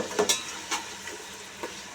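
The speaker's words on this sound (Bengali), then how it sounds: "এবার খুব ভালো করে নেড়ে ছেড়ে পেঁয়াজগুলোকে ব্রাউন করব" Onions being stirred and fried until brown for a homemade bhuna khichuri, with a few sharp scraping stirs of a spoon against the pan over a soft, steady sizzle, close and fairly quiet, no talking.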